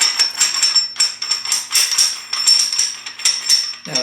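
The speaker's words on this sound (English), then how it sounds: "It just fits right on there, and you spin the collar around." A collar spins onto a 10-pound weight plate on a plate-loadable weight vest, making a rapid series of close, scraping metallic clicks and rattles.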